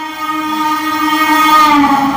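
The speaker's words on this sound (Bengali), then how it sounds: "এই নিয়ে টোটাল 5টা ট্রেন পাইরাই গেল বিষ্ণুপুরের স্টেশনটা দিয়ে।" A train rolls through Bishnupur railway station, a steady loud tonal rumble with a sustained horn-like pitch that swells toward the end, no voices over it.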